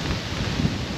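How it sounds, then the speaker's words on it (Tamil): Strong wind blows outdoors on a rainy day in Giethoorn village in the Netherlands, a continuous loud rushing roar buffeting the microphone with a deep rumble throughout. "பார்க்கலாங்க பாருங்க காற்றை."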